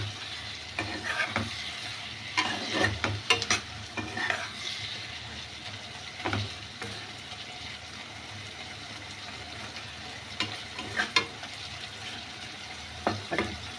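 Prawn and watermelon curry bubbling in a pan on the gas, a soft continuous sizzle with scattered scrapes and clinks of a spoon stirring now and then, fairly quiet and close.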